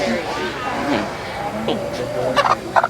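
Chickens cluck and chatter at a small animal market and breeding show, a few close squawks over a busy crowd murmur with people talking nearby.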